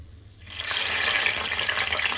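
Green chillies drop into hot oil and set off a sudden steady crackling sizzle that rises quickly and holds, close to the pan with no speech.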